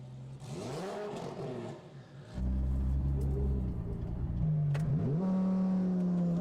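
A 2350 bhp Lamborghini Huracan and a 2250 bhp Nissan GTR launching in a drag race: a strained engine drone with dipping pitch, then a loud surge of acceleration and rising revs, heard from a distance without speech.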